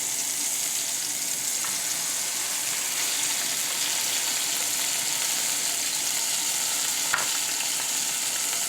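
Garlic cloves and onion fry in a pan for a white pasta sauce, a steady broad sizzle holding evenly throughout with a faint clink of stirring midway and near the end.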